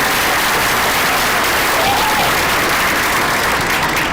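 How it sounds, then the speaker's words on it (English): A graduation audience applauds loudly and continuously, dense sustained clapping from a large crowd filling the space for the full few seconds. "deserves a nice round of applause"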